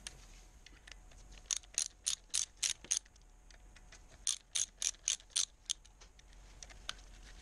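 A ratchet with a 5mm hex bit undoes the clutch spring plate bolts on a Kawasaki ZR1100 Zephyr motorcycle. Two close runs of crisp, rhythmic ratchet clicks come in quick succession, separated by a short pause.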